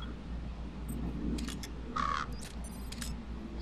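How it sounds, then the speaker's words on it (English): Raven calling in the video game MGSV The Phantom Pain, a few faint, scattered caws and clicks over a low steady ambient hum, with no talk. "So this is Raven territory."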